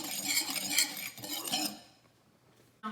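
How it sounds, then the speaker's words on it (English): Seasonings stirred together in a bowl with a utensil, giving busy scraping and clinking for under two seconds, then near silence before a short knock at the end. "Now we're going to stir all of our seasonings together."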